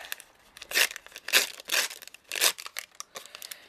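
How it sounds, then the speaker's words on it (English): Paper is ripped off a craft tag in several short, crisp tearing and crinkling bursts, close up and fairly quiet, with brief pauses between pulls. "And I will be ripping that up. Just rip it off."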